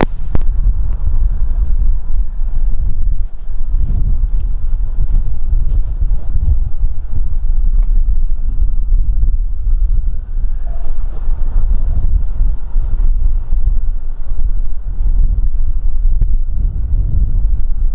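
Intense head wind buffets the microphone at Kagoshima Airport, a constant loud low roar and rumble that fills the whole stretch, with faint engine drone beneath.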